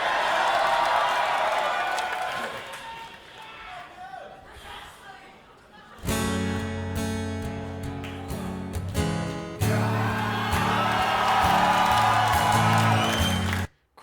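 A live concert crowd cheers and whoops at an acoustic show, loud and sustained, with guitar and music playing through most of it.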